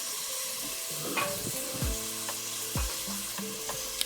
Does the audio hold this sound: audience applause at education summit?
no